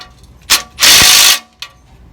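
A ratchet tightens the transmission connector bolts on a 1992 Wanderlodge WB bus, with a short click, a longer loud rasping burst and a final brief click, close by.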